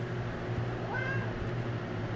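A cat meows once, a short rising cry over steady game background noise and low hum, inside a baseball video game (MLB The Show 24).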